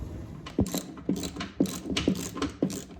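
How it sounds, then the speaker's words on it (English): A ratchet wrench loosening bolts on an MTD tiller chain case: close, crisp clicking in rhythmic bursts, about five or six repeated ratcheting strokes roughly half a second apart, with no talk. "So let's start pulling these bolts out."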